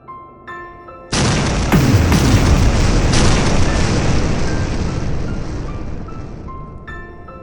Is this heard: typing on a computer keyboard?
no